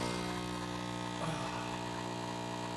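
KitchenAid Pro Line espresso machine running while drawing a shot, giving a steady, continuous electric hum with a buzzing tone throughout, moderately loud and alone without talk.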